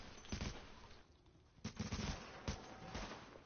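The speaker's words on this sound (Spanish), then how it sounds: "Ya estoy disparando, estoy disparando." Gunfire in the video game The Division, with several sharp shots and short bursts spaced across the moment. The shots sound faint and distant against a low background.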